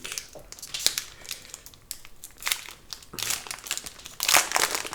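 A Pokémon card booster pack is opened by hand, its foil wrapper crinkling and crackling in repeated close, bright bursts that grow louder toward the end, with no talking.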